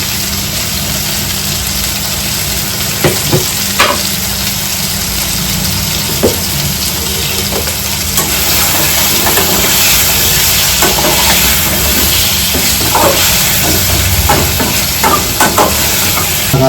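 Mushrooms sizzle steadily in a hot pan for a masala fry, a constant frying hiss broken by occasional scrapes and taps as they are stirred, with no talking.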